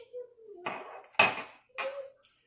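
A metal grinding plate from an LEM Big Bite meat grinder is handled, giving three close clanks and scrapes of metal on metal with a faint ringing tone between them.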